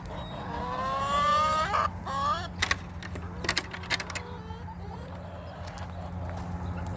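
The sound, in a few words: chickens clucking in coop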